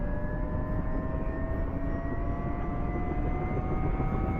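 An AH-6J Little Bird helicopter's turbine engine starting up in the DCS flight simulator, a loud continuous roar with rising whining tones that climb steadily as the starter spins the turbine up.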